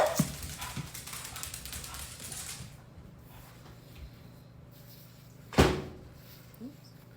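Several dogs bark excitedly at a farm home while a four-wheeler is out riding, a dense burst of barking in the first seconds followed by quieter gaps and one sharp louder bark near the end.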